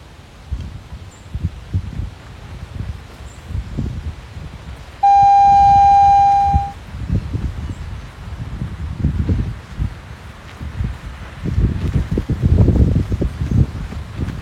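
Blustery afternoon wind gusting and buffeting close to the microphone, rustling continuously, with a single steady electronic beep cutting through for about two seconds midway.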